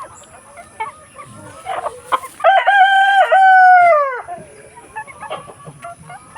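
Roosters on a farm crow loudly up close, one long rising and falling cock-a-doodle-doo in the middle, with scattered clucking and hen chatter from the flock before and after.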